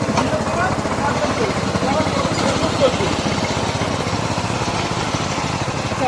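A small mini power tiller engine runs steadily nearby with a rough, pulsing chug, and a voice talks over it throughout.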